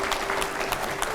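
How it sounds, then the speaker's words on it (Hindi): Applause from a TV studio audience during a political interview broadcast, a continuous dense wash of clapping with a faint steady tone underneath. "जोरदार तालियां हो।"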